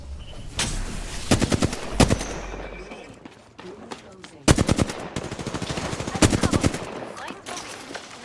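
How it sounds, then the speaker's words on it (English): Video game gunfire from enemies: rapid automatic bursts crackle in several clusters, loud and close, separated by short lulls. "The enemies are shooting at me."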